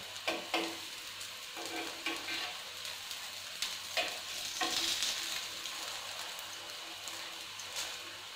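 A dosa fries in oil on a pan, giving a steady close sizzle broken by occasional soft scraping and stirring taps, with no talk.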